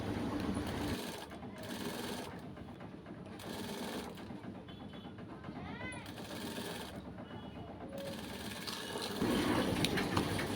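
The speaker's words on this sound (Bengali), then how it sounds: "এখন আমি কপের উপরের সাইডটা সেলাই করতেছি" A sewing machine runs in bursts while stitching the upper side of a shirt cuff, its fast mechanical whirr stopping and starting in several runs with short pauses between.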